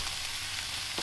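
Small pork sausage pieces fry in a pot for a creamy bacon and potato soup, a brief, even, close sizzle with a faint scrape at the end.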